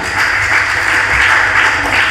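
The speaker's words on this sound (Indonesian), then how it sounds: "Kasih tepuk tangan untuk Tuhan." Steady, dense clapping from a crowd, loud and continuous for the whole moment with no voices on top.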